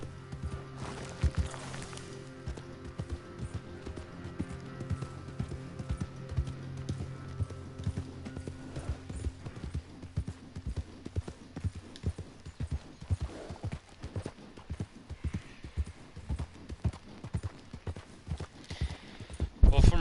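Horse hooves clip-clopping in Red Dead Redemption 2, a quick rhythmic patter of hoofbeats that builds and carries through most of the stretch, with game music and other in-game sounds layered underneath.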